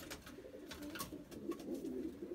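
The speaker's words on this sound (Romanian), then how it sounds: "Astăzi vreau să vă prezint porumbei de reproducție." Breeding pigeons coo softly in a loft, a steady low murmur of overlapping calls from several birds nearby, with faint rustling and no talk.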